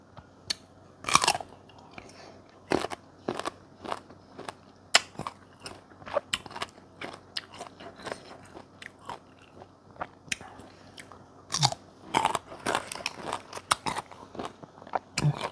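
Crisp, loud bites and crunchy chewing of an unripe Pimsen mango sound up close, in sharp irregular snaps separated by quieter stretches of chewing.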